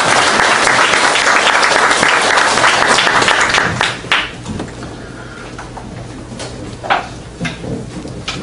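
An audience at a Korean church theology seminar breaks into loud applause that holds for about four seconds and then fades to a few scattered claps and room noise.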